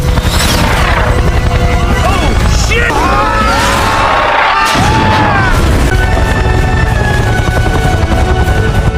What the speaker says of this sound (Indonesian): Melihat si bocil menembakkan RPG ke mereka